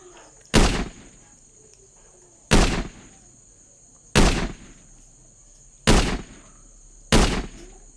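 Five sharp, loud video game gunshots at spaced intervals, fired at zombies, each with a brief decaying tail, over a faint steady high tone.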